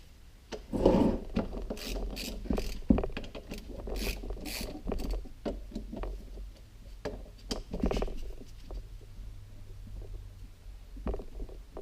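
Ratchet clicking in short bursts while bolts are backed out of a K46 transmission case during a teardown, with clanks and rattles of metal parts between the runs, close by.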